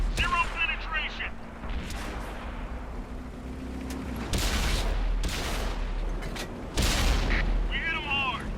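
Tank cannon fire in World of Tanks, with several loud booming shots and impacts spaced across the stretch over a steady low engine rumble, a sharp blast near the end.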